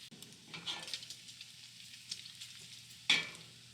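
Onions, jalapeños and bacon frying in a pan over medium heat give a soft, steady sizzle with intermittent stirring scrapes and one sharper clatter near the end.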